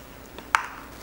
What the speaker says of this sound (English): To this, I will crack an egg.